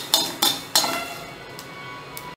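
Mustard seeds and chillies in hot oil for ajwain kuzhambu give several sharp, bright crackling pops, three strong bursts followed by fainter ones over a low sizzle, close up.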